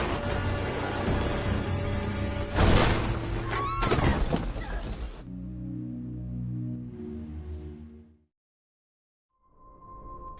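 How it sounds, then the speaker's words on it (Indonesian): A car crashes violently in a forest at night: two loud, sharp impacts with shattering debris, then a grinding, fading rumble that drops into silence before a faint tone returns. "mobil Ida dan Nora mengalami kecelakaan yang sangat parah"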